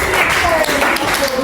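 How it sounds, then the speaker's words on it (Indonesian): Classroom students at a madrasah in Pekanbaru clap for a classmate, a short burst of dense, loud applause from the room with voices mixed in. "Beri tepuk tangan kepada kawan."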